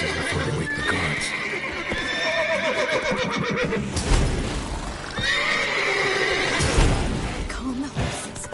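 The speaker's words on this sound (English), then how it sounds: "Calm the horses." Horses in The Witcher video game whinny and neigh several times, with clip-clopping hooves and shuffling around them, close and fairly loud.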